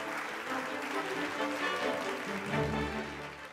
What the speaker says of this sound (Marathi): जोरदार टाळ्या होऊन जाऊ देत मंडळी गणेश राठोड यांच्याकरता.